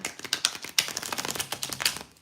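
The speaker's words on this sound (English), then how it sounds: "I don't know why I'm shuffling these cards." A deck of playing cards being shuffled, giving quick irregular bursts of crisp papery clicks and flutters at close range with no talking.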